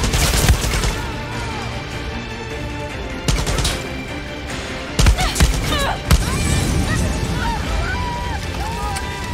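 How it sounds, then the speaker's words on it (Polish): Gunfire in the video game Far Cry 6, with bursts of shots and sharp impacts breaking through a busy game soundscape, while someone talks over the action. "Mocne mają te strzały, jednak to trzeba uważać, to już nie są przelewki."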